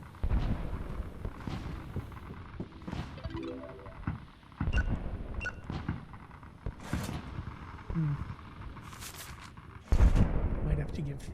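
Fireworks effect in a video game: a series of sharp, booming bursts at irregular intervals, fairly loud, over a constant background rumble, with some voice-like sound mixed in.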